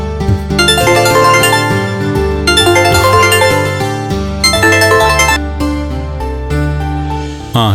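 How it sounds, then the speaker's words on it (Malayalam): A ringtone plays continuously as a phone call is placed, a loud melodic tone pattern with short repeating phrases that fill the whole stretch without talk. "ഡാ, നീ ഒന്ന് കണ്ണൻ സാറിനെ വിളിച്ചു തന്നേ."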